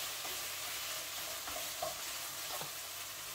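Bell pepper sautéing in a pan for a coconut-milk chicken dish, a quiet steady sizzle with a few soft spoon-stirring scrapes, no talking.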